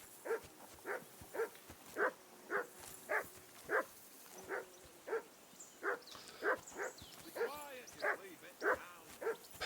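A dog in Kingdom Come: Deliverance II barks repeatedly in a steady rhythm, sharp and fairly close, with a few whining yelps toward the end.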